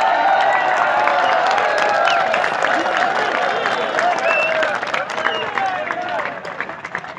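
Sustained applause and crowd noise from an audience honouring a fourth-year student at a college culture festival, loud and steady for several seconds before thinning out toward the end.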